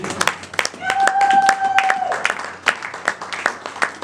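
A church congregation claps and cheers in a burst of applause during a worship service, with a sustained sung or called tone riding over the clapping before it thins into scattered claps.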